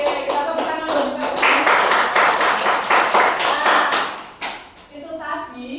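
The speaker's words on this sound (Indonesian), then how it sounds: "kita tepuk tangan dulu" A group of children claps hands in a classroom, a run of quick, loud, fairly even claps lasting several seconds before stopping, with a few voices afterward.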